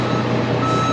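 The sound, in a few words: truck warming up with reversing beeps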